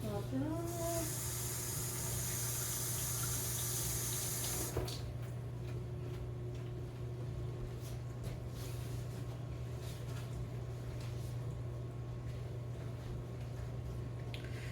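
Running tap water splashes into a kitchen sink while dishes are washed up during muffin baking, a steady close hiss of flow that stops after about five seconds, leaving a constant low hum.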